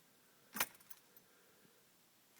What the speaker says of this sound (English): That's what happens when I turn the key all the way to start it.